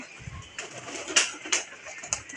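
Soft pigeon coos and rustling come from close by, with a few brief bright flutters of wings or feet standing out against a low background hum.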